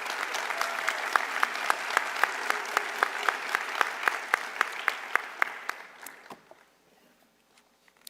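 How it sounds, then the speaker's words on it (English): Applause for graduates at a community college commencement ceremony: rhythmic, crowd-wide clapping with steady beats that fades away over the last two seconds into near quiet. "can we have a round of applause for all the graduates?"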